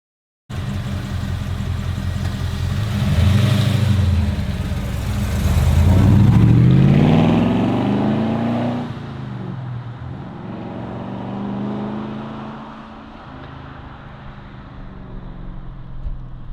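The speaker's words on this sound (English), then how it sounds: "A little bit more RPM, Michael." HQ Holden engine revving through gear changes after a manual gearbox conversion, mid-pitched engine note rising and falling in swells as revs climb and drop between shifts, close and steady, no talk.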